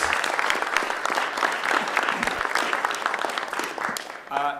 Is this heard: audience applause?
yes